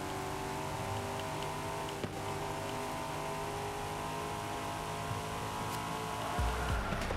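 A race car in Forza Horizon 5 drives hard under steady acceleration, a continuous engine drone with tonal whine layered over road noise and a brief tire scrub near the end, heard without talk.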